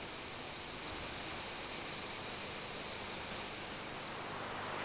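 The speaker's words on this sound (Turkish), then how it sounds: "Cırcır böceklerinin ötüşü" Crickets chirp in Aegean-style terraced olive groves, making a constant, even, high-pitched shimmer that holds without a break for about five seconds.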